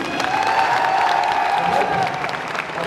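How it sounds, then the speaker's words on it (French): Convention audience at a fan panel applauding and cheering, with a crowd clapping, a few whoops and a sustained tonal hum beneath, loud and continuous. "je demande un applaudissement pour la team Noob"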